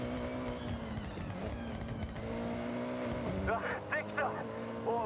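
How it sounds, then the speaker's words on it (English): A rally car engine in Forza Horizon drones steadily with a strong, full tone, rising into a few higher revving surges near the end, heard under ongoing talk. "You can hear the engine has more power."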